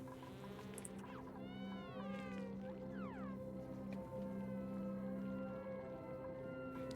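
A synthetic cat meow alert plays during an Oxygen Not Included game stream, several sliding, wavering meow tones over a steady hum of background game sound, moderately faint.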